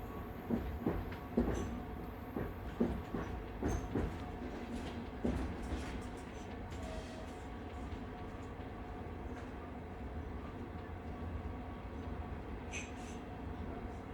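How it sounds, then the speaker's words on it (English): A night train in the Alps begins moving again, with a few clunks and rail clicks at first settling into a soft, steady rolling rumble, heard quietly from inside the carriage. "the train begins to move once more"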